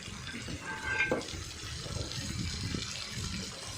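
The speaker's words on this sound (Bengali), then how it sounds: "তারপরে অ্যাড করে দিচ্ছি আমি জল" Water is poured into a pan of vegetarian Bengali curry with fried spices, a steady gushing splash for a few seconds, fairly close and moderately loud, with no one talking.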